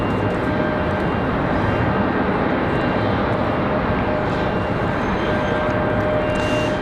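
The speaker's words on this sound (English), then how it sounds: "Those are A220 for Breeze Airways." A Breeze Airways Airbus A220 moves at Raleigh-Durham airport, its jet engines giving a constant, dense, steady roar at close range with no clear rise or fall.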